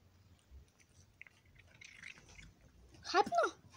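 A cat chews a treat, soft wet squishy bites building to a short louder burst near the end, close up and quiet, with little else around it.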